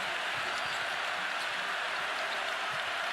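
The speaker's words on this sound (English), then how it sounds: "Crowd is up." Dense crowd roar fills a college basketball arena during an Arkansas vs Kentucky men's game, a steady loud wash of cheering and applause with no breaks.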